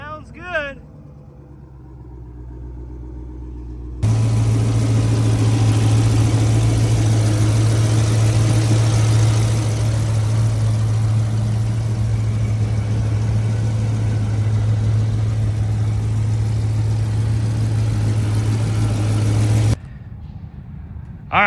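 A 2014 Dodge Charger SRT8 with the 6.1 HEMI idles loud and steady with a deep, constant rumble for about fifteen seconds, with brief voices before it starts.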